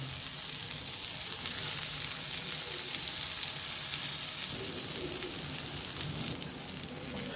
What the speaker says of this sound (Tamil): இப்போது எண்ணெய் சூடாயிடுச்சு. கத்திரிக்காவை ஒன்று ஒன்றா இதில் எடுத்து